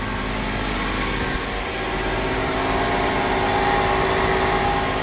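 A worn wheel bearing on a Subaru whirs in a steady, continuous drone with a low engine-like hum, holding fairly loud and even throughout with no talking.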